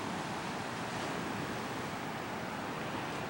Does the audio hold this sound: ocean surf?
yes